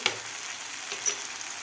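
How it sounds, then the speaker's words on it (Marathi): Turmeric, coriander and cumin powder sautéing in a pan with tomato and onion, a soft steady sizzle broken by a couple of light stirring scrapes, close up with no talking. "आता व्यवस्थित आपल्याला हे मसालेसुद्धा एक दोन मिनटं आपल्याला हलक्या टोमॅटो आणि कांद्यामध्ये व्यवस्थित परतून घ्यायचे आहेत"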